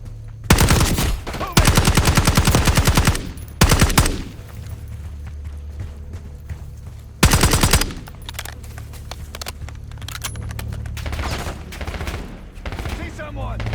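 Automatic machine gun fire in the Call of Duty Black Ops 6 campaign: loud sustained bursts, several long strings of rapid shots separated by brief pauses, with scattered shots and battlefield noise between them.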